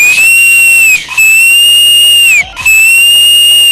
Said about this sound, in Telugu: నేను మాటలు లేవు, విజిల్సే